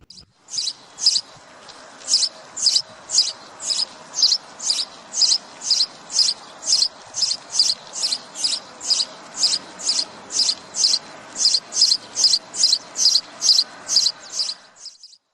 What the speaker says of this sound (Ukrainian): Ну, звичайно ж, це горобчик.